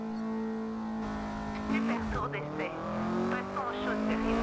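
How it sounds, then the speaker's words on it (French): A damaged race car engine in the Forza Motorsport video game whines and revs with sweeping tonal harmonics and tire noise, rising and falling unevenly under someone talking. "on a tué le moteur. Oh, le bruit horrible."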